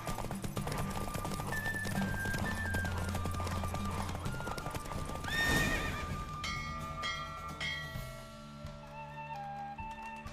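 A horse gallops with steady hoofbeats, then lets out a loud, high whinny partway through, with a faint bell-like ringing near the end.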